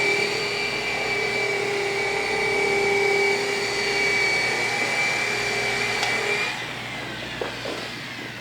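A rotary buffer polishes car paint with a steady, close electric whine and whir held at an even level, then winding down near the end, running alone without talk.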